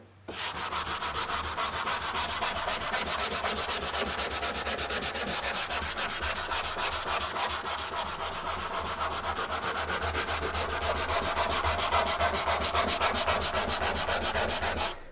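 Wood being hand-sanded along the grain as a finish preparation, a steady, continuous abrasive rubbing that holds close and even throughout with no pauses.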